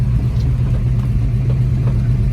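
A 1970 Ford Boss 302 Mustang rumbles steadily while driving on a summer day in Michigan, a loud, close, low engine drone that holds even throughout with no talk.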